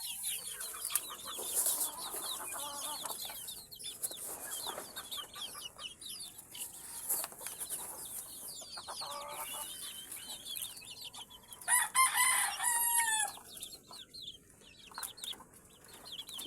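Hens and newly hatched chicks cluck and peep constantly and close by, and a rooster crows once partway through over the busy farmyard chatter.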